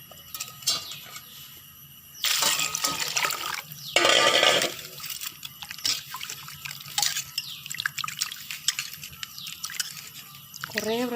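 Koorka, small Chinese potatoes, sloshed and rinsed by hand in water, with splashing, trickling and pouring sounds in uneven bursts, loudest in a brief surge near the middle, close by.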